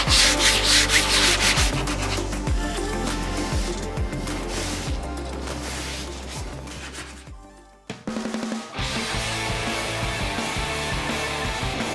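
A stripper disc on an angle grinder scuffs the metal body of a Karmann Ghia, a loud, continuous abrasive rasp that cuts out briefly near the end then resumes, with no talk.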